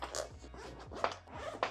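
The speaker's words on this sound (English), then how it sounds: "So I'll zip this up." A bag zipper is pulled shut in a few quick rasping strokes, close and fairly loud, with short pauses between pulls.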